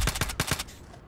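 Pistol fire in the VR shooter Contractors: four quick, loud, close shots in a rapid rhythm, followed by a short fading echo.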